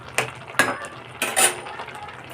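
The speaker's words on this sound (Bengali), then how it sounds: "এবার আমি ঝুড়িতে ঢেলে ছেঁকে নেব" Boiled taro leaves tipped into a basket to strain, giving three short, wet splashing rustles with a soft scrape of utensils in between, close and moderately loud with no talking.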